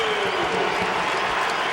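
A college basketball arena crowd, Pittsburgh Panthers at Syracuse Orange, roaring and cheering loudly throughout, a broad sustained wash of noise with applause mixed in and no pauses.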